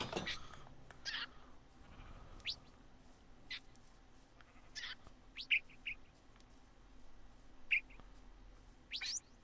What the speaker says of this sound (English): As well as come in and meet all the parrots.